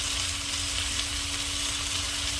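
Brinjal, sweet potato, potato and tomato fry in a pan, giving a dense, continuous close-up sizzle with no talking.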